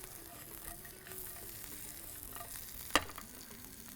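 Ingredients sizzle faintly in a hot pan, a soft steady frying hiss with one sharp clink partway through, and no talking.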